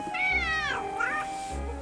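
A three-week-old kitten gives two high, wavering meows in quick succession, close and clear against a quiet room.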